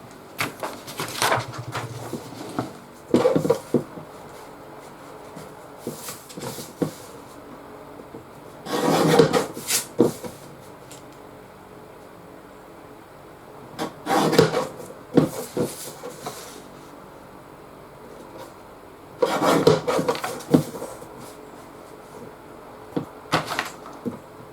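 A sheet of music paper being cut down to a 7-inch square for a French provincial project, heard as repeated rasping, scraping strokes in bursts of a few seconds each, spaced by quieter gaps with small handling noises.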